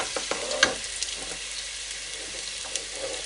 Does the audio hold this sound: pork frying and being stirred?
yes